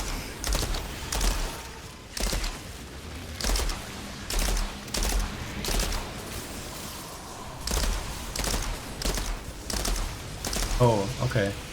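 Bursts of rapid gunfire in the video game Outriders come in regular volleys every second or so, loud and punchy, with brief gaps and a short electronic sound effect at the end.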